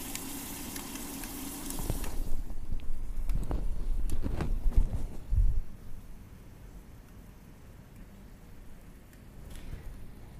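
Liquid nitrogen boils and sizzles around lettuce dipped into it, a loud broadband hiss for the first two seconds that then breaks into crackling bursts and bubbling before settling to a quieter steady fizz.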